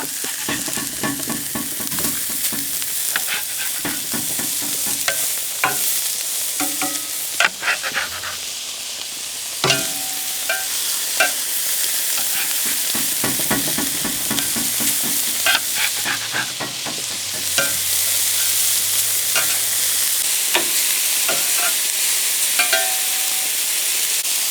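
Beef burger patties for Caucasian-style burgers sizzle and fry steadily on a grill grate, a continuous bright crackling hiss with occasional sharper pops and scrapes, loud and close throughout.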